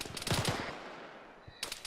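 Video-game gunfire during squad training: a quick burst of rapid shots at the start trails off into a fading echo, followed by a couple of sharp single reports near the end.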